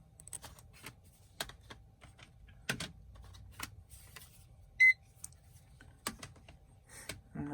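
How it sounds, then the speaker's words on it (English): Scattered keystrokes come from typing on a computer keyboard in a quiet room, in irregular short clicks separated by pauses, with one brief electronic beep in the middle. "That one I have to type in."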